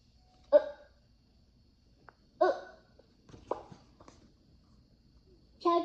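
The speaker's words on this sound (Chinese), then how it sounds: "怎样才能治好乔治的打嗝呢？" A cartoon piglet hiccups, with three or four short voiced hiccups spaced a second or two apart, close and clear against a quiet background.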